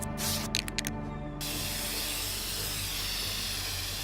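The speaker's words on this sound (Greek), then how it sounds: "Κάνω σπρέι!" Steady spray-paint hiss from the video game inFAMOUS Second Son, starting after about 1.4 seconds and continuing loud and unbroken to the end, following a few brief game effects.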